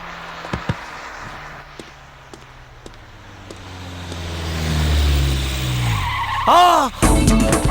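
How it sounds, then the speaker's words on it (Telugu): A car arrives in front of a house: an engine rumble builds and deepens as it approaches, then ends in a sharp tire squeal and skid, loud and close. "ఎవడు ఈ టైంలో నా ఇంటి ముందు కారు సౌండ్?"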